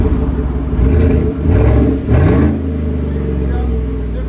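A 2019 Chevy Tahoe 5.3L V8 with a Borla ATAK exhaust revs up loudly, rising in a couple of throttle blips before settling back to a steady idle rumble, with people talking nearby.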